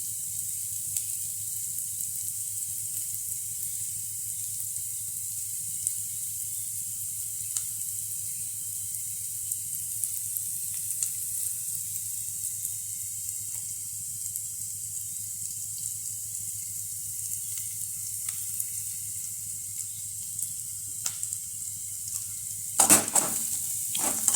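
Flattened rice (avalakki) roasting in a hot pan, a steady soft sizzling hiss running evenly throughout, with a few faint scraping stirs near the end and no talking.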